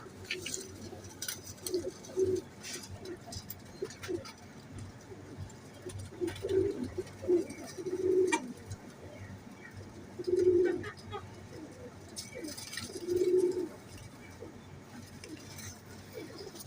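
Teddy Sialkoti pigeons, a breeding pair, give soft repeated coos every few seconds over a low murmur of background noise, with someone talking throughout.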